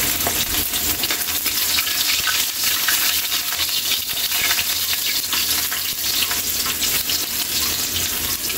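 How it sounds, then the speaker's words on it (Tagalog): Ginger sautéing in hot oil in a frying pan, the first step of a Filipino milkfish (bangus) soup. A steady, close, bright sizzle and crackle runs throughout with no voices. "mainit na yung mantika natin. Lagyan na natin yung luya natin. Gigisa lang natin Kaylee."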